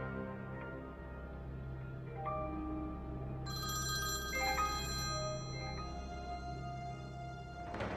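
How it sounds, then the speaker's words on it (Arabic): A telephone rings with repeated electronic ringtone tones, steady and fairly close, with no one speaking over it. "ألو نعم فؤاد."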